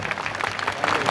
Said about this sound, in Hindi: जोरदार ताली बजाइए आप लोगों को सहमत है तो।